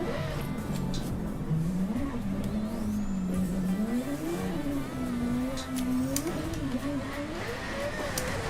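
A 2020 Toyota Supra RZ GR engine revs and climbs in pitch, dips, then rises again in a sustained close drone, with a voice speaking faintly underneath.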